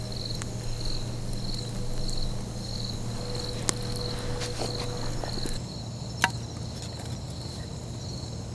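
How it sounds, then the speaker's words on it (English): Dense Australian bush filled with insects: a constant, high, pulsing chirr of crickets or cicadas under a low steady drone, with a few faint clicks and taps and no speech. "There's bugs everywhere. Like it's densely packed with bugs."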